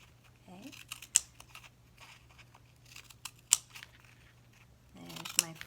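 Scissors cut slits into a paper tube for a ladybug wrist cuff craft, making a few sharp, close snips spaced a couple of seconds apart, with a brief voice at the start and near the end.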